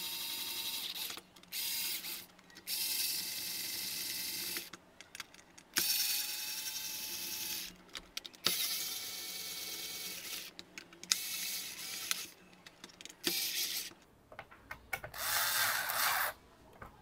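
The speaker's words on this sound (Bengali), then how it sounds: "স্ক্রু টাইট দেওয়া হয়ে গিয়েছে" A screwdriver clicks and ratchets in repeated bursts as screws are tightened to fix a socket onto a handmade heavy-duty multiplug board, with short pauses between turns and no speech.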